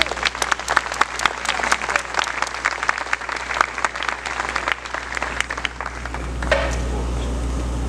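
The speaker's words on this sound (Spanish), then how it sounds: "Dale un aplauso al Rey." A church congregation applauds during a sermon with loud, dense clapping and a low background hum, before the clapping dies away near the end.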